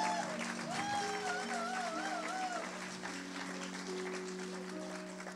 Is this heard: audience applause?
yes